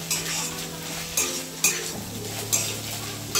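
A spatula stirs frying food with ground black pepper in a hot pan, rhythmic scraping strokes every second or so over a steady close sizzle.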